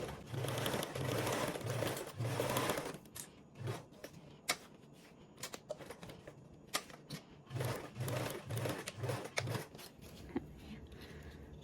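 A sewing machine stitches a 3/8-inch seam on quilt pieces, with two runs of rapid, close needle chatter separated by clicks and fabric handling; the sewing is quiet and no one talks over it.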